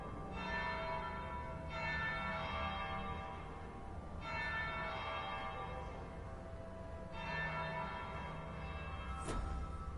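A church bell in a video game rings in slow, resonant strokes that blend into a continuous sustained hum, followed by a sharp click near the end.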